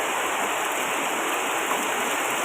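A dense, constant roar of heavy rain pouring down, steady and unbroken throughout, with no voices.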